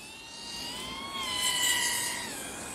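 A CMW Merica 4-inch racing drone on a 4S battery passes at about 80% throttle, a steady high-pitched motor whine with harmonic tones that swell and bend slightly as it flies by, fairly near and alone.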